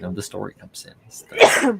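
A single short sneeze bursts out near the end, right after a few words of casual talk.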